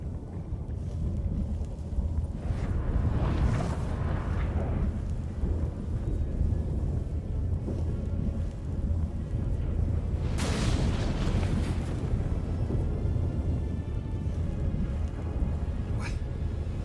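Thunder rumbles and wind roars through a storm in The Witcher 3: Wild Hunt, a continuous loud low-frequency din with a couple of sharper cracking bursts partway through.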